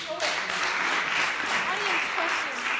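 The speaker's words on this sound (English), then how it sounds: "I clapped too soon" An audience at a music entrepreneurship competition finale applauds with steady, sustained clapping that fills the room, fairly close and even throughout, with faint voices mixed in.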